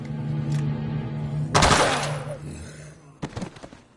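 A gunshot in the video game Dead Rising 2 lands as a single loud crack with a decaying tail over a low steady hum, followed later by a few shorter, fainter bangs.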